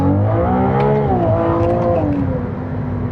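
A Ferrari 296 GTB Assetto Fiorano accelerates in first gear, its engine note climbing in a loud, continuous, harmonically rich drone heard from inside the car, with the revs rising and then settling.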